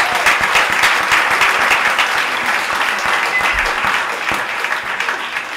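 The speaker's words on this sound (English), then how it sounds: "Let's have a nice round of applause for Juliana once again." A conference audience at the 1Life Philly 2016 event gives a steady round of applause, with loud, dense clapping close by that carries on evenly throughout.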